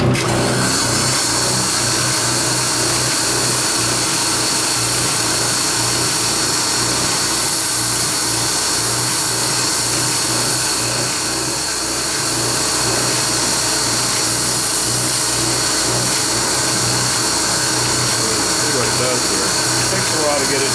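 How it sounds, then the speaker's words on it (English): An oscillating sander runs continuously and loudly against the wooden hull of a canoe under construction, a steady buzzing drone with a rough rubbing texture and a brief dip partway through. "is an oscillating sander. What happens is this thing goes up and down"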